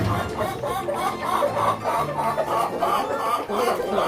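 Breeder chickens and three roosters cluck and chatter continuously, a busy flock close by with overlapping calls and no clear pauses.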